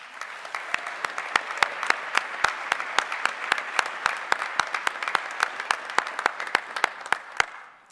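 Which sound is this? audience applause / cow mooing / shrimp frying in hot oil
audience applause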